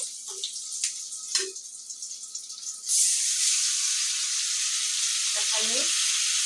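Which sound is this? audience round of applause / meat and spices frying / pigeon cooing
meat and spices frying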